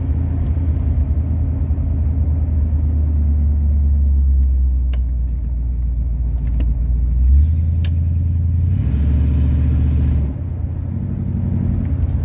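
A 1977 Pontiac Trans Am V8 rumbles steadily on a road test drive, a loud continuous engine drone with gear changes and a rise in revs near the end, no talking.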